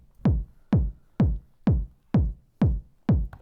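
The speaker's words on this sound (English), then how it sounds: "Start with the kick drum, because that's always the best place to start a track like this, anchor the rhythm." Seven evenly spaced kick drum hits programmed on an Elektron Model:Samples sequencer, each a punchy low thump with a quick decay, in a straight, steady pulse with nothing else sounding.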